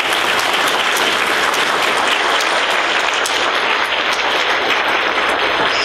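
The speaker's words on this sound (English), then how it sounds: "Please give them a round of applause" A lecture audience breaks into loud, continuous applause, a thick even roar of many hands clapping at once that carries on without a break for around six seconds.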